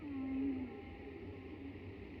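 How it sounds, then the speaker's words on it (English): Whale song opens a metal track: a single drawn-out, low moaning call that bends in pitch, loud at first and then trailing off over a soft underlying drone. "Kicking off with a little whale sample."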